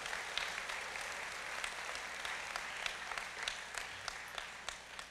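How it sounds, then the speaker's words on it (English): Audience at a Choctaw Nation State of the Nation address breaking into sustained applause, a broad even wash of clapping heard from a little distance, fairly soft, with no voice over it. "Let's give them a big round of applause for all that they do."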